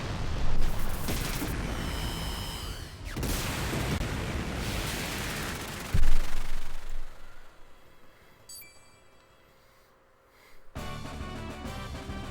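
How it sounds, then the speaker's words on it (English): A big explosion ends a boss fight in the Chrono Cross video game: a loud, rumbling broadband blast with a second heavy hit around the middle, fading into a quiet stretch before the game sound returns. "Very big explosion, because that was technically a boss fight."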